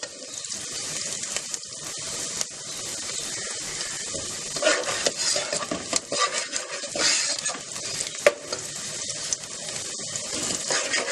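Finely chopped onion fries in about a tablespoon of oil for spicy achari macaroni, giving a continuous sizzle and hiss with small crackles, fairly quiet and steady, with no talking.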